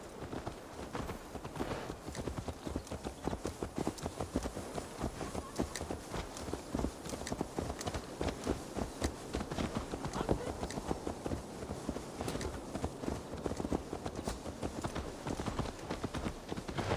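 Horse hooves clip-clop steadily in Assassin's Creed Valhalla, a brisk, even rhythm of hoofbeats running throughout, with speech heard over them.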